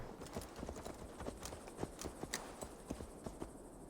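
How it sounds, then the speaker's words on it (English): Horse hooves clip-clop in a steady, quick rhythm in Assassin's Creed Valhalla, a summoned copy of the rider's horse trotting alongside, the footfalls close and moderately loud over a soft game-world background. "We summoned another horse, a copy of our horse"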